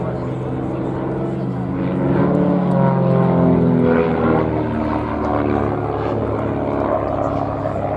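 Display aircraft flying a quarter clover manoeuvre at an airshow, a steady, loud engine and propeller drone that swells slightly as it passes, with a voice commentating over it.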